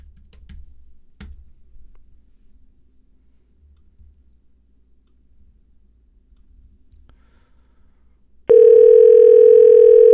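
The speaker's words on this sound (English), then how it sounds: "Let me get to Google Hangouts, and we'll do a phone call." Steady phone dial tone from a Google Hangouts phone call, loud and continuous for the last two seconds after a quiet stretch with a couple of faint clicks.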